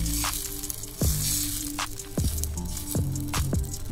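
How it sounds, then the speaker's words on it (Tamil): An egg cracked and slowly poured into a hot pan gives a soft, close sizzle with a few wet squishy pops, all without speech. "இப்போ இந்த முட்டை வந்து இந்த மாதிரி உடச்சி மொல்லமாக ஊற்றிக்கோங்க."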